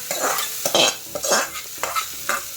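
Hot tempering sizzles as it is poured into fresh coconut chutney, with bursts of crackling frying and stirring scrapes in uneven pulses, close and fairly loud with no voices.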